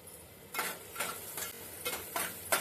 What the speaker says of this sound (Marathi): कांदा बारीक कापून घेतलेला मिरची कढीपत्ता परतून घेऊया